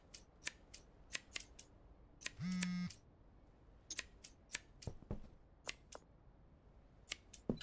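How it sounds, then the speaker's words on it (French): Crisp scissor snips repeat in quick irregular clusters within the Schedule 1 video game, with one short buzzing electronic tone partway through; no talking. "C'est toi qui as le ciseau, putain. Là. Coupe."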